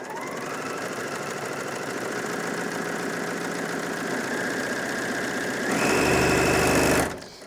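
A Bernina L460 overlocker stitches fabric with a rapid, even mechanical whirr, rising to a louder, faster buzz at full speed of about 1500 stitches per minute near the end before cutting off sharply.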